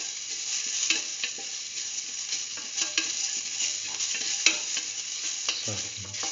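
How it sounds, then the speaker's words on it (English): Chicken pieces sauté in a pan for a curried mustard chicken dish, a steady close sizzle broken by repeated scraping and clacking strokes as a utensil stirs and mixes them, with no talking. "Keep on sauteing and mixing."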